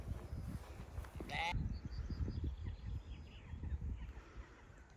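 A sheep bleats briefly amid a noisy outdoor background at the Avebury stone circle in England, with low rumbling and people's voices nearby.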